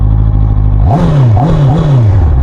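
A 2025 QJMotor RACE 600RS sport motorcycle idles with a low rumble, then revs up sharply in a few quick first-gear throttle blips, loud and close, with no voices.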